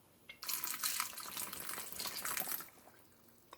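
White grape juice pours steadily into a jar for about two seconds, a bright splashing rush that starts abruptly and then stops.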